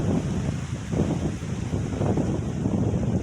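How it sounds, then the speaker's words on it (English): Strong wind at Fort DeSoto, a historic coastal fort, buffeting the microphone in a steady, loud roar with gusty rises and falls throughout and no voice. "It's very windy out here, so you might have a hard time hearing me."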